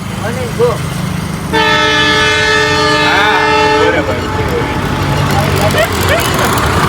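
A train rumbles past nearby, its horn blaring loudly for a couple of seconds while wheels clatter, with people talking in the background.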